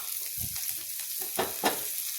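Cumin seeds, green chilies and asafoetida sizzling in hot oil over a low flame, a steady bright crackle with a few sharper pops.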